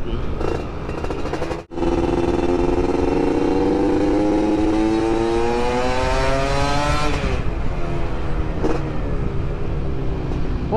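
A Yamaha F1ZR motorcycle with an R&R racing aftermarket exhaust revs up loudly with a rising, rumbling exhaust roar, holds high, then drops back to a steady idle burble.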